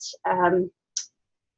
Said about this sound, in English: can't talk and click at the same time